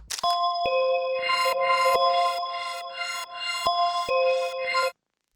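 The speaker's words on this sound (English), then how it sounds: "I'm gonna take a bell phrase for this one" A bright synthesized bell phrase from the Portal VST plugin, with sustained metallic tones and a repeating rhythmic pattern of chimes, ringing for about five seconds before cutting off.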